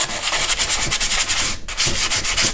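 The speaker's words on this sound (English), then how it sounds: "So I'm just going to sand" Wood on an old desk being sanded by hand or sander, a steady close rasping scrub in repeated strokes with a brief pause partway, loud and continuous with no talking.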